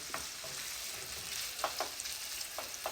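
Meat and gumbo ingredients browning in a pot, a continuous sizzle with occasional scraping stir strokes, close and steady with no talk.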